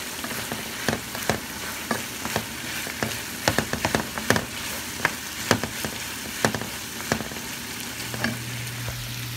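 Tomatoes hitting frying chicken in a pan for a red pepper chicken dish, with a steady sizzle and frequent sharp crackles and pops from the hot oil.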